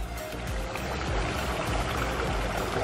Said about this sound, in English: the waterfall just got turned on